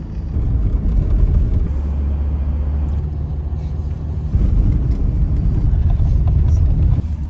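A car drives on a snowy winter road in -12°C cold, with a loud steady low rumble of engine and tyres filling the cabin and a brief change in road noise partway through.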